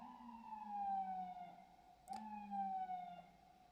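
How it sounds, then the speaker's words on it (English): An ambulance siren wails past outside, a loud rising-and-falling tone sweeping continuously with a brief sharp click partway through, heard alone without talk. "Damn ambulance."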